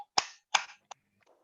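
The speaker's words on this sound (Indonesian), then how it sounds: "Tepuk tangan, guys." Participants in a Zoom training session for new civil servants clap on cue: three sharp, separate claps spaced evenly and heard close through a compressed call connection, followed by faint murmuring.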